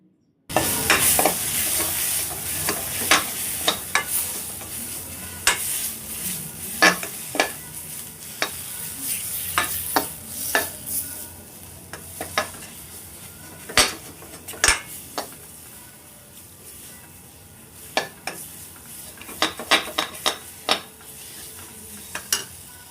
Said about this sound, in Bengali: এদিকে আমি এই শাকের মশলাটা এখানে কষে নিচ্ছি